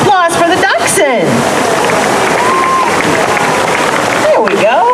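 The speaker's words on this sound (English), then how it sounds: "Let's hear a little round of applause for the dachshund." Audience at an outdoor festival dog show clapping for a dachshund, a few seconds of steady, moderately loud applause between stretches of an announcer's amplified voice.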